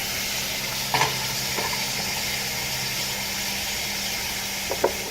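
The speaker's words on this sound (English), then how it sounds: "It's been about 3-4 minutes now, just flipping the steak. Adding more butter." Steak sizzles steadily in butter in a pan, a close continuous frying hiss broken by a couple of brief clanks and scrapes as the meat is flipped.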